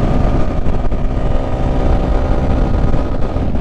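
Suzuki Sniper 155 motorcycle cruising in sixth gear near 124 km/h, a loud continuous engine drone with heavy wind rush and a steady hum, recorded close on the moving bike with no one talking.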